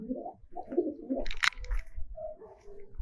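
Giribaj pigeons cooing close by, a few soft low rounded coos in short bursts, with light handling noise in between.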